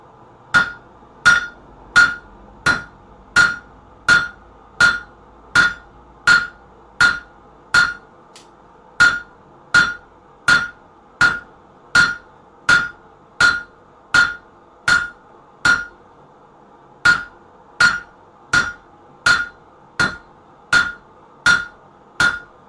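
A blacksmith hammering hot steel to draw out the reins of wolf jaw tongs, heard as a long, steady series of loud, ringing hammer blows on the anvil, about one per second, close up with no talking.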